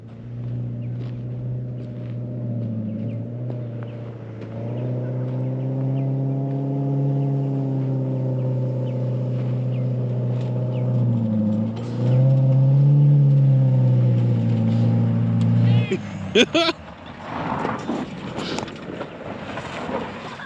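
A pit bike engine held at full throttle, bogging: a loud, steady drone close to the microphone that rises and strains partway through, then cuts off into scattered rattles and wind.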